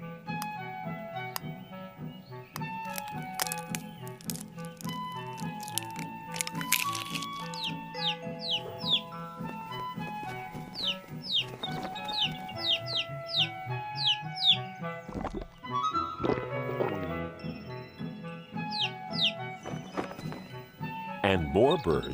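Chickens clucking and other bird calls in a children's Sabbath school creation story, repeated chirps and clucks set over music and speech.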